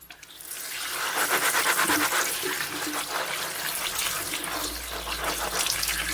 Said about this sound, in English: Get some hot soapy water going on them.